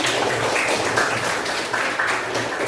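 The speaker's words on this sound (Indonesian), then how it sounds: "kasih tepuk tangan dulu" A classroom full of students claps together in sustained, uneven applause lasting a few seconds.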